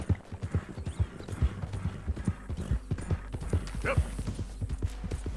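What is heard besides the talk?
horse riding hooves in video game Red Dead Redemption 2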